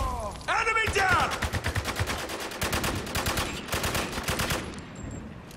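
Rapid automatic gunfire in the shooter game Spec Ops: The Line, loud continuous bursts of shots with impacts, with a voice briefly heard near the start.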